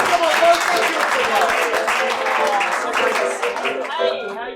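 Audience clapping at a comedy festival puppet show carries on steadily behind a presenter's loud voice, which speaks over the applause throughout.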